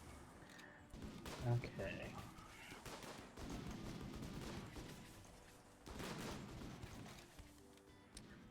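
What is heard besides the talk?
gunfire shooting at turrets in video game RimWorld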